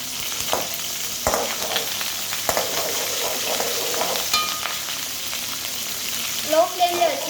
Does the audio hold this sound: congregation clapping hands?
no